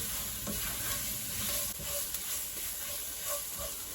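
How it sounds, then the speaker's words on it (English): Tomato paste and lentil stroganoff base fry in a pan for a lentil stroganoff, giving a steady close sizzle and hiss with soft stirring scrapes throughout and no talk. "we're going to toss that all around together and let that cook for about 30 seconds."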